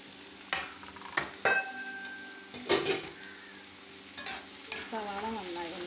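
Chopped onion fries in hot coconut oil for a prawn roast, a soft continuous sizzle punctuated by sharp clinks and scrapes of a utensil stirring against the pan.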